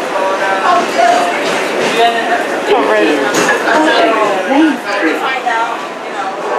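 Onboard a New York City 7 subway train as it pulls into a station, with rumbling wheels, rising and falling squeals and rattles filling the car while passengers talk nearby.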